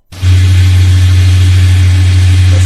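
A truck engine idles in Euro Truck Simulator 2 (open beta 1.37), starting up and then holding a steady, loud, low drone with a deep hum and no talk.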